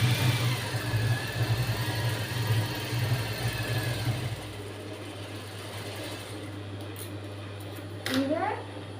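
A sewing machine stitches a blouse sleeve, a steady mechanical hum with a low whirring drone for the first half, then softer and fading, with a brief sharp sliding sound near the end.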